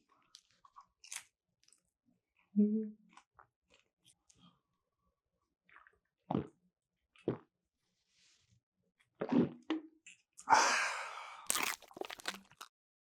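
Crunchy bites and chewing of fresh, plump in-season shrimp, close and quiet, with a few sharp crisp snaps and scattered soft mouth clicks separated by silence.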